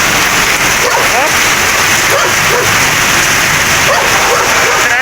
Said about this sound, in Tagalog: May aso ka dito sa gilid oh.